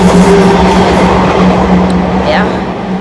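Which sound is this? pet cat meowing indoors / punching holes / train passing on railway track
train passing on railway track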